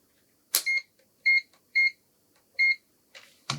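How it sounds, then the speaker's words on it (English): A multimeter set to continuity mode beeps while its probes touch on a PlayStation One console repair, giving four short, clear electronic beeps at irregular intervals, bracketed by faint handling clicks and rustles. "we're in continuity, which is the mode that beeps when the probes touch together"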